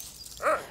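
A single short bark or yelp from a livestock guarding dog kept to protect herds from wolves in Switzerland, brief and fairly faint at a distance.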